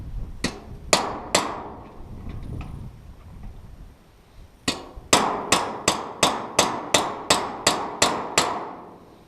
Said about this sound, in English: chisel it off